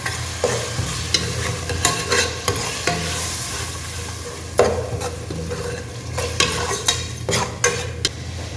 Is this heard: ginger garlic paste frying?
yes